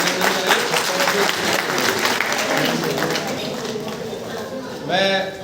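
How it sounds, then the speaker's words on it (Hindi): Loud, sustained applause from an audience welcoming a national-level judo award winner, dense clapping throughout with voices mixed in and a brief whistle-like sound near the end. "तो एक बार मैं चाहूँगा जोरदार तालियों द्वारा इसका स्वागत करें।"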